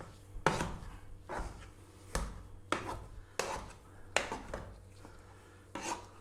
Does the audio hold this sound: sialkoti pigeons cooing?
no